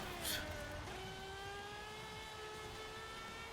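A race car engine in Forza Horizon 5 holds a steady high whine at sustained speed, a continuous drone with faint shifting tones and no talk.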